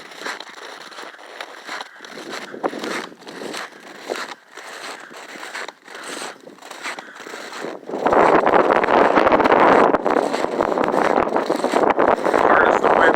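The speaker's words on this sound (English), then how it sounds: "it's really not too bad until the wind blows" Wind gusts outdoors in a snowy mountain setting, a steady broadband roar that swells louder and denser after the first few seconds, with scattered rustling bursts earlier.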